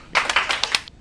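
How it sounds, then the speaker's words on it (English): A class claps in a school safety skit, a short, fairly quiet burst of several sharp hand claps in quick succession. "Class, two claps."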